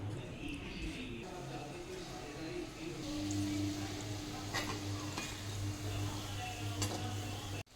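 Mango-pulp gulab jamun frying over a low flame in hot oil, a steady soft sizzle with a constant low hum beneath and occasional light clicks of utensils, moderately close and without talk.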